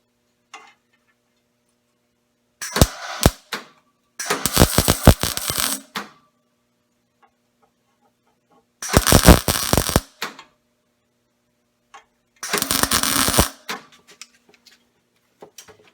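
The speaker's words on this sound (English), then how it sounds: "we're going to do a few tack welds" Short bursts of tack welding on sheet metal for a car cowl patch, four crackling spurts of a second or two each separated by silence, with faint clicks between, close and loud.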